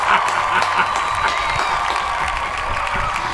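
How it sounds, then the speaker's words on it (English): Crowd applause and cheering for Bill O'Brien's departure from Alabama, a steady dense wash of clapping and whoops with voices mixed in, held at an even level throughout. "Can I please get a round of applause?"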